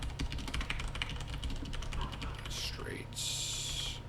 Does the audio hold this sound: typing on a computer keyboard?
yes